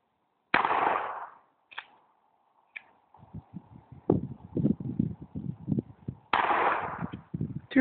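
Gunshots fired at birds in a tree outdoors, heard as two sharp pops with a brief gap between them, then a burst of rapid clattering pops, and finally another loud pop.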